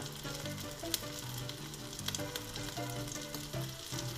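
A burger patty fries in a pan, a steady close sizzle with crackling pops and a few sharp clinks, no voices.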